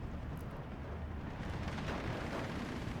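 Artillery fire in the Steel Division 2 video game lands as a dense, rumbling low-frequency explosion that rolls steadily for a few seconds, loud and boomy with no voices over it.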